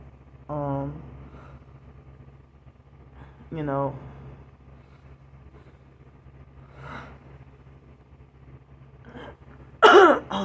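A person gives several harsh hacking coughs and throat clearings, close to the microphone, spaced a few seconds apart with quiet in between and a sharper, louder burst near the end.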